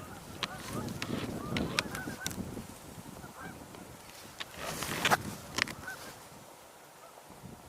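Canada geese honking in the distance, scattered calls rising and falling over a soft outdoor background with occasional rustling.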